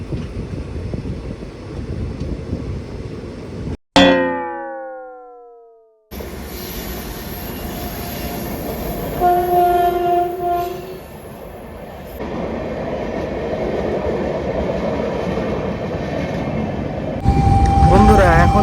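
A passenger train on the Digha–Burdwan puja special runs through the night, with a continuous rumble of wheels on rails, squealing wheels and tonal hoots, loud and close, broken by a couple of abrupt cuts.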